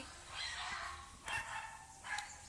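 A few dogs barking in short, sharp yelps, three separate bursts spaced across a couple of seconds, somewhat distant and quiet against a faint low background hum.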